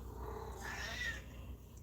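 A cat sitting in a chair gives a faint, short meow-like sound over a low steady hum in a quiet indoor room.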